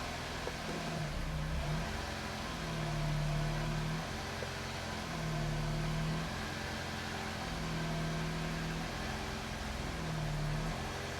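A 2002 Nissan Micra pulling away in first gear after a clutch cable replacement, its steady engine drone rising and falling in gentle waves over constant road and cabin noise, heard from inside the car.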